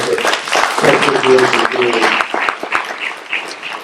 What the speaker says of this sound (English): Everybody give them a great round of applause.